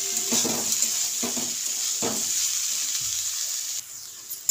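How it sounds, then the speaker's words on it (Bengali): Bottle gourd peel and boiled potato fry in a pan over a gas flame at medium heat, a steady bright sizzle broken by a few soft stirring scrapes. "এবার আমি এটা মিডিয়ামেই রেখে গ্যাসটা 5 মিনিট ভাজবো"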